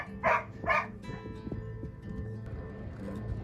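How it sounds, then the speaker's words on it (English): Dogs bark from a kennel in Gros Morne National Park, two loud barks close together up front, then quieter yips and whimpers trailing off amid a low hum of distant noise. "Did you hear those dogs in the kennel?"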